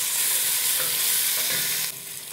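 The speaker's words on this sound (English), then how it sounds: "So while the onions are frying," Steady sizzling of sliced onions frying in a hot pan, a continuous close crackle with occasional stirring scrapes, no voices.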